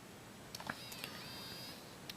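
A GE X600 digital camera takes a picture, giving a few quiet, quick mechanical clicks and a faint whirring whine against low background hiss.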